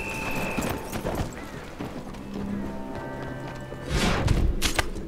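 Horse hooves clatter and pound in Red Dead Redemption 2, a fast galloping rhythm mixed with other in-game noise and a rising rush of sound near the end.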